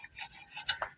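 A Mio Sporty motorcycle idling gives off a rough rubbing, rasping scrape that repeats in uneven pulses over a second, fairly close and with no voices.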